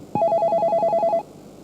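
A telephone rings with a rapid warbling electronic trill, one burst lasting about a second, loud and close, then silence.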